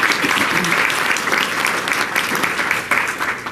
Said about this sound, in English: Let's give a round of applause to our second place finishers.